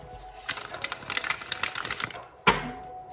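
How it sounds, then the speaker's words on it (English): A tarot card deck being shuffled by hand, with quick, light riffling and flicking card sounds coming close and fairly quiet in bursts, ending with a sharper slap of the cards. "Just want to make sure I get a really good shuffle in here"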